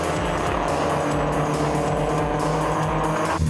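Porsche race cars, including a 911R and a 914, roar along a circuit in a historic racing event, loud continuous engine snarl with layered exhaust notes at close range throughout.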